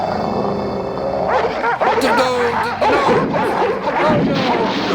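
Dogs in a kennel bark, yelp and growl in an excited, overlapping burst that starts after about a second of low background noise and stays loud and close to the end.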